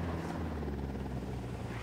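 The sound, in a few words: helicopter flying overhead in Ghost Recon Wildlands video game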